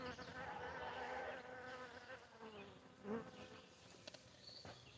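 Honey bees buzzing inside a swarm trap, a continuous low insect drone with shifting hum and a few louder passes close by, fairly quiet throughout.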